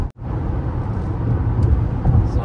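Falken Wildpeak AT tyres on a RAV4 rolling over a concrete road: a loud, continuous cabin rumble and tread roar, with faint thumps from the road joints passing under the wheels.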